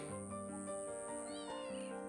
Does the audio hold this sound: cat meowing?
yes